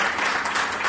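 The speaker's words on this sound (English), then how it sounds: "Can we give a hand clap for James?" A crowd applauding storyteller James at a live storytelling event, dense continuous clapping filling the short moment, with voices mixed in.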